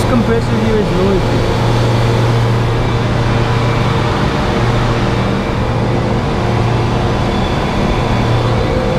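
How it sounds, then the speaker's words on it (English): A noisy refrigeration compressor at a grocery store in Uganda runs with a loud, steady, droning hum and a constant mechanical rumble close by, with indistinct voices mixed in. "Wait, this compressor here is noisy."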